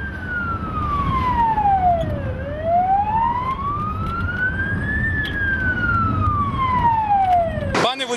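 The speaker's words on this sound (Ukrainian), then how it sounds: "їде спецмашина з сиреною, з маячками" An emergency vehicle's siren on the Ternopil bypass road wails loud and close, sweeping slowly down, up and down again over steady road noise, then cuts off in a short burst.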